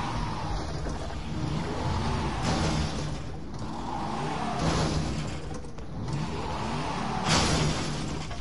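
A car engine revs and surges in Resident Evil 7 while the car is driven into an enemy, a steady loud drone with repeated swells and whooshing impacts across several seconds, no voices.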